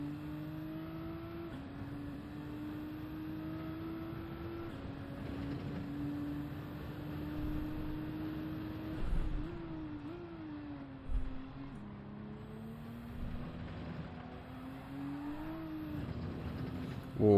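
A Nissan GT-R lapping the Dragon Trail circuit at night in Gran Turismo 7, its engine a steady, close drone that rises and falls in pitch through gear changes and corners, with brief thumps partway through.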